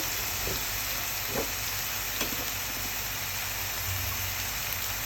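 Chickpea dal with shrimp, salt and spices fries in a pan, producing a constant close sizzle broken by a few soft stirring knocks.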